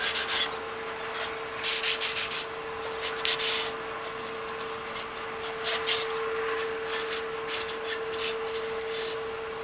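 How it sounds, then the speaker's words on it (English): A cloth wipes excess wood stain off a wooden dice tower in repeated rubbing strokes, a soft, close scratchy swishing in irregular bursts over a faint steady background hum. "then you wipe it back down, because you don't want the excess drying on there"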